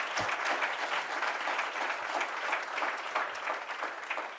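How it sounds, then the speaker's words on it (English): Steady applause from an audience cheering hackathon teams at a varsity awards ceremony, a dense, continuous wash of clapping held at an even level throughout. "you deserve a round of applause for yourself."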